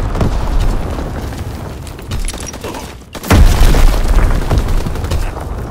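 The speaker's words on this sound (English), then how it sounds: "Enemy bomb incoming." An enemy bomb explodes in the World War II shooter Call of Duty WW2: after a brief dip, a loud, sudden boom erupts and rumbles on amid ongoing battle noise.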